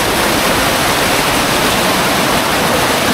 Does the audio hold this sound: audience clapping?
no